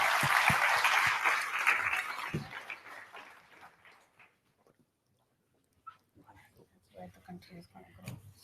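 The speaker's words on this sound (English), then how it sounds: "please give me a big, big, big applause for the cool marketers who are coming on stage right now" A conference audience at a digital marketing event claps loudly for marketers coming on stage. The applause fades away over several seconds and gives way to quiet rustles and brief voices.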